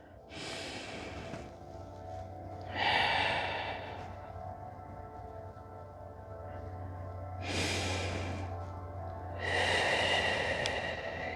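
Deep breaths are taken during a yoga pose: two slow inhale and exhale pairs, each a loud airy rush through the nose and mouth. They are heard close and alone over a faint steady hum.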